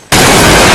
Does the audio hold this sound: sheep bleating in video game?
no